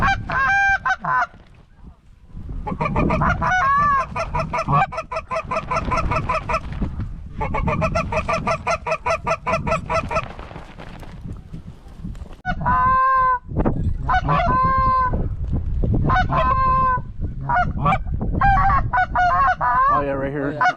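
Flocks of geese honk loudly and repeatedly in dense, overlapping bursts close by during a goose hunt on big water in a snowstorm, with short lulls between waves of calls.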